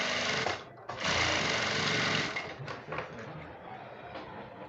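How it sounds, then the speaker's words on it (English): A sewing machine runs in loud, steady bursts while stitching a sleeve seam, with a brief pause near the start and a softer, broken run toward the end as it backstitches. "then I'll continue sewing, then I'll also back stitch here."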